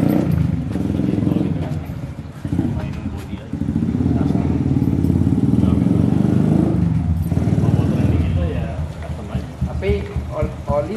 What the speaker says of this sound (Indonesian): Kalau mesin sih masih halus ini.